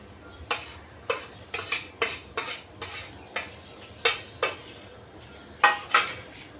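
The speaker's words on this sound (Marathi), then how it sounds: "चांगलं मिक्स करून घ्यायचं" A spoon mixes garlic, ginger, green chilies and grated potato into a batter of poha in a bowl, giving about a dozen sharp clinks and scrapes in an uneven rhythm, close and clear, with no talking.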